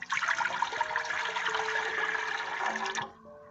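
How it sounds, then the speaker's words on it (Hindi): Two glasses of water poured into a cooking pot in a home kitchen, a continuous splashing gush lasting about three seconds and then stopping abruptly, close and alone. "देगची में अब मैं डाल रही हूँ 2 गिलास पानी"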